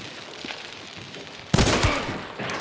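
Gunfire in the video game Hunt: Showdown, a sudden loud burst that cuts in after a quiet stretch, followed by trailing reports and rumbling echo.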